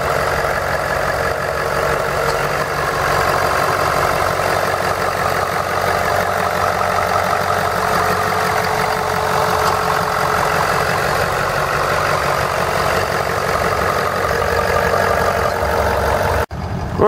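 A 2012 Ford F-350 Crew Cab Lariat King Ranch pickup with a 6.7 liter V8 diesel idles steadily, a loud, even, clattering drone close by that continues unbroken until a brief cut near the end.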